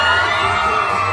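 A crowd of children shouts loudly and continuously in a dense, sustained roar of voices, close and filling the whole moment.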